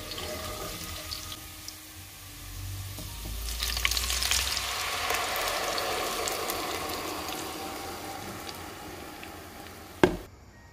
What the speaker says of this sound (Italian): Prepariamo il sugo, soffriggendo la cipolla e poi aggiungendo il pomodoro